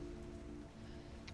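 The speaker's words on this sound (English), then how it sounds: "it is raining outside" Steady rain patters outside at a low, even level, a continuous soft hiss with a faint tonal hum underneath.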